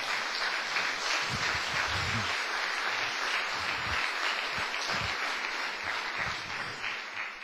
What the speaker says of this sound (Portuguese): Quem pode dar uma salva de palmas para o Senhor Jesus?